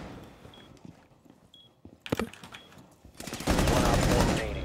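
Gunfire in the Rainbow Six Siege video game: a quiet stretch, then a sharp burst of shots, and finally a loud, sustained volley of rapid fire that lasts to the end.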